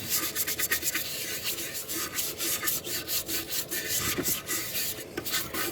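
A small cheap hand brush scrubs loosened grease and grime on a car engine, giving steady, close bristle rubbing strokes in a continuous rhythm with no talking.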